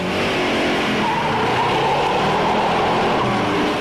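A 1970 Chevrolet Super Sport with a cowl-induction 396 V8 drives close by, its engine roaring in a steady, loud, unbroken rush with tire noise and no voices.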